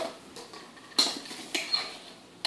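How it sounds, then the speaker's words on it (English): A utensil clinks and taps against a mixing bowl while zucchini muffin batter is stirred: soft, irregular scraping broken by a few sharper metallic knocks, close and fairly quiet. "I'm going to mix it."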